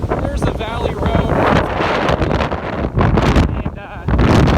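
Hurricane Ian's gusting wind on a beach at landfall roars and buffets the microphone loudly and continuously, with surging gusts, while a person speaks underneath.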